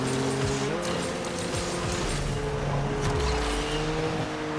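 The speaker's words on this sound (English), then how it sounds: "I want you to pay attention to the engine sounds because there's a difference now" Several racing car engines in the Asphalt Legends video game drone and rev continuously, with pitch shifts as gears change and a low rumble and brief tire noise underneath, loud and steady throughout.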